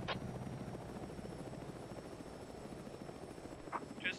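A helicopter in Arma flies nearby with a steady, low, pulsing rotor drone that holds at a moderate, even level throughout, with a few faint chirps on top.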